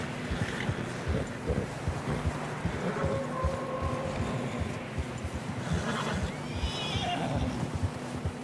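A horse in Red Dead Redemption 2 gives a brief whinny amid snowy mountain riding, set against steady wind and hoof-and-tack rustle, the neigh faint and partly buried in the blustery ambience.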